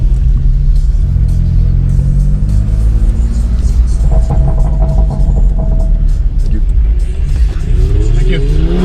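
An Audi RS6 launching: a loud, close engine rumble with rising and falling revs and a steady throbbing drone, with a person speaking over it.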